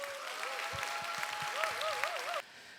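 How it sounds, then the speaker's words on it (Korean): Applause welcoming the next pastor at a church leadership training event, an even wash of clapping under a wavering sustained musical tone and a few low thumps, ending abruptly. "큰 박수로 한번 맞이해 주시면 좋겠습니다"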